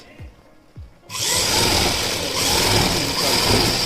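A sewing machine runs steadily while stitching a PPE kit, starting after a second of quiet with two soft thumps, then a loud continuous whirring drone to the end.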